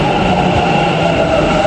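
Metro train running, a loud steady rumble and hum of the carriage in motion, heard from inside with no talk.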